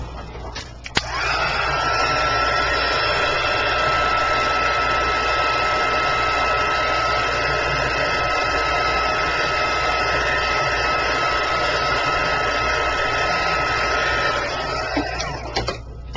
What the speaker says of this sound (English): I'm going to hit it with a heat gun really quick